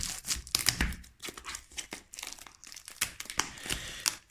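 Foil wrapper of a Pokémon card booster pack being crinkled and torn open, close-up rustling and crackling bursts in an uneven rhythm, alone without talk.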